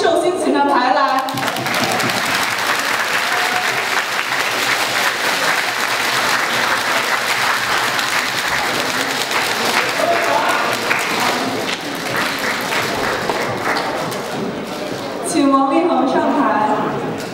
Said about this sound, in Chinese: 让我们用掌声把这三位寿星请上台来